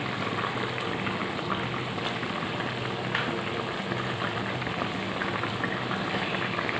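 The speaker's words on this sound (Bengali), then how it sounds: "তরকারিটা আর একটু ফুটে গেলেই আমি নামিয়ে দেবো।" Rui fish curry with potato and eggplant boiling in a pan, a steady close bubbling and sizzling hiss that runs on without a break and with no talk.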